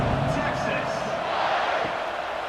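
Stadium crowd noise from a college football video game with Arkansas at Texas, a steady, fairly subdued roar of many voices filling the background without a break.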